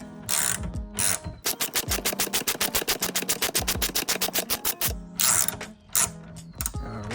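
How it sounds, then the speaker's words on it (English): A ratchet wrench loosens the top nut of a rear shock absorber on a 2012-2015 BMW 3 Series F30, a rapid run of close, sharp clicks between louder scraping bursts, with no talk. "we're gonna twist it with this wrench and get this top piece off"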